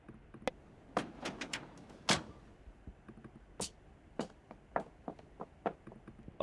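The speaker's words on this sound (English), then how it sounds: "Here are the knocking sounds according to Sam Audio." Knocking isolated by AI sound separation from an 80s TV show comes through as a series of sharp, irregular raps, some clustered and some single. It is faint and dry, with brief, quiet gaps between hits.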